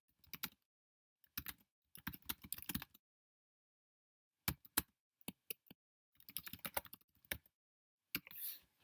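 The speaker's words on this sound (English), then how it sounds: "We're going to type some text" Typing on a computer keyboard while coding a text adventure game, several quick bursts of close, crisp key clicks separated by silent pauses, with no talk over them.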